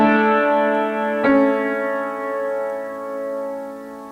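A chord sustained on a keyboard-like instrument, with a tenor voice moving from the fourth down to the third in a 4-3 suspension, a brief attack midway, then a soft, ringing resolution fading out alone.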